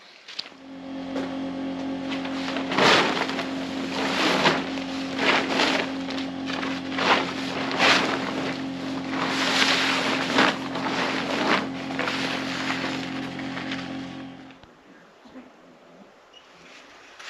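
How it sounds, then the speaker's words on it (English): An air compressor runs steadily to supply nail guns at a house build during sheathing and house-wrap work, a constant close hum with harmonic drone that stops abruptly near the end, with scattered clatter over it. "Just got to turn the compressor on."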